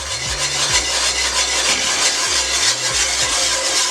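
A whisk scrapes rhythmically around a pan as beef broth is worked into thickening gravy, making close, continuous swishing and scraping strokes with no voices.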